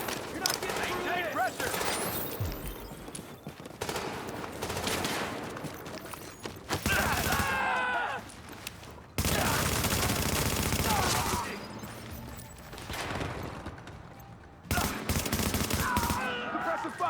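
Bursts of rapid automatic gunfire in a combat video game, loud and dense, broken up by short pauses and gaps, with game voices calling out over the shooting.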